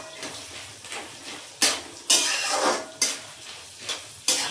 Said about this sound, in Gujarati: હવે સિંગદાણા અને દાળિયા બંને થોડી વાર ફ્રાય કરીશું.